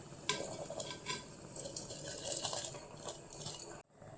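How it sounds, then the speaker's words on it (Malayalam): Repeated scraping and clinking of a utensil stirring washed rice into boiling water inside a metal pot, close and steady, with no voices. "നന്നായിട്ട് ഇളക്കി കൊടുക്കാം."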